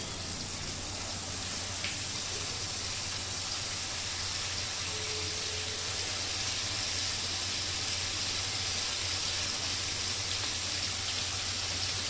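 Lentil patty mixture fries in hot oil with a steady, dense sizzle, like rain or running water, continuing evenly throughout with no talking.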